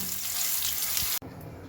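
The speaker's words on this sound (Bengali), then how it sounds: "খুব একটা কড়া করে আমি ভাজছি না, জাস্ট একটু সতে করে নিলাম।" Paneer cubes being lightly sautéed in oil in a pan give a steady, close hiss of sizzling that cuts off abruptly partway through and continues more quietly afterwards.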